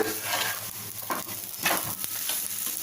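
Steady sizzling of rice rotti (akki rotti) frying on a pan, with a few soft scraping touches as it is turned over; close and continuous, no voices.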